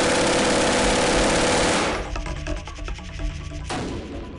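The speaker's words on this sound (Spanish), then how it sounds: "Los sonidos de disparos son, desde mediados del siglo pasado, una de las bandas sonoras de Palencia" Rapid automatic gunfire at the Nammo Santa Bárbara arms factory in Palencia, a loud continuous burst of shots that cuts off, then a few sparser clattering bursts and rumbling echoes follow.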